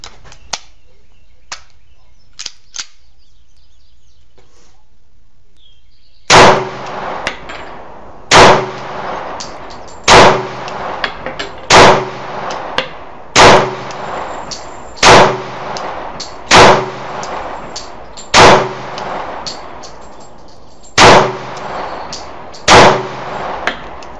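Sharp pistol shots from an XD handgun ring out at a shooting range, about a dozen evenly spaced reports, loud and close, after a few faint clicks and handling noises at the start.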